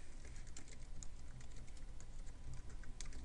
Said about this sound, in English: I'm just typing something right off the top of my head here.